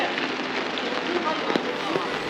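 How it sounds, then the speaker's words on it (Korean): Rain falls steadily at a traditional five-day rural market in Gonyang, Sacheon, a dense broadband hiss with a few brief taps and spatters rising out of it. "지금 영상을 편집하면서 보니 빗소리가 참으로 시원하게 느껴집니다."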